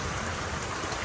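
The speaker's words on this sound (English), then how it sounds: "It's raining as hell." Steady, dense rain pouring down outdoors in Jamaica, a continuous hiss and rumble with no pauses, fairly quiet overall.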